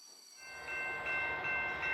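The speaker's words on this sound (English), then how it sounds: "Here is a big orange freight train pulling lots of colorful carriages." A big orange freight train pulling lots of colourful carriages rolls past, starting quiet then swelling into a steady rumble with a sustained tonal horn-like ring on top, near and fairly loud.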